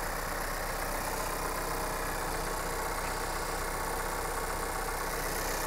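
A car engine idles close by with an even, continuous hum and no variation in level, and there is no talking.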